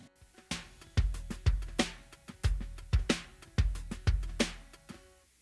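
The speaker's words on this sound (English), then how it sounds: "Here's the sound of the loop in the verse." Percussion loop from a song's verse plays alone: punchy low kicks and bright snare-like hits in a steady repeating groove, with ringing sustained tones underneath, about nine strong beats over several seconds.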